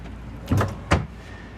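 Storage drawers in an Emerald Prevost H3-45 motorhome slide on their runners, two short rolling thuds about half a second apart, close by and with no talking over them.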